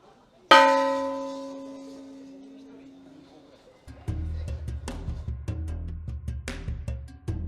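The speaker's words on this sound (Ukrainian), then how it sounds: "Перед підйомом гору можна також підійти і вдарити ось у цей дзвін." A large Japanese temple bell on Mount Takao is struck once with a deep, ringing tone that slowly fades, followed by scuffing movement and footsteps nearby.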